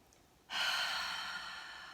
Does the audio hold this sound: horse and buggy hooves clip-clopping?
no